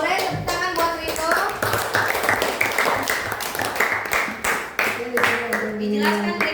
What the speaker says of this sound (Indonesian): Boleh tepuk tangan buat Rito.